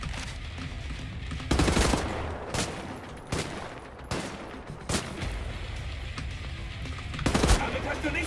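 Shotgun blasts ring out in the first-person shooter Wolfenstein: The New Order, several sharp bursts spaced irregularly over a steady background of game noise, with more gunfire heard in the distance and no voices over it.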